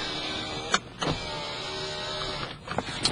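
Rear power window of a Lexus LS400 running, a close, steady electric motor whine lasting a few seconds with small clicks and bumps as the glass travels.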